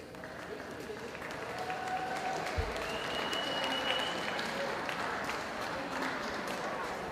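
An audience applauds school state participants at a send-off event, a dense, steady wash of many hands clapping throughout, fairly distant, with some crowd noise mixed in.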